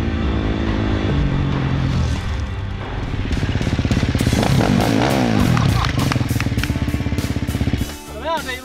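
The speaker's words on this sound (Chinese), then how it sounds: "跟我们约好的这个拉力车手呢，也驾驶着他的摩托车，然后来到这儿来跟我们会合" A rally motorcycle engine revs loudly and close on the edge of the Kumtag Desert, its pitch rising and falling in throaty bursts before easing off, with talk mixed in over the engine.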